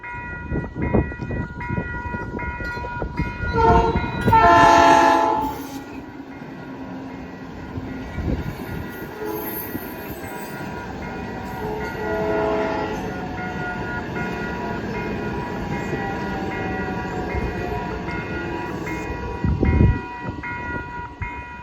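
A train from Chicago passes at Hillcrest Road, its horn sounding loudly in a strong blast early on, followed by the sustained rumble and clatter of rail cars rolling by, with a shorter horn note near the end.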